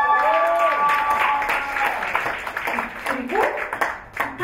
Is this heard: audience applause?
yes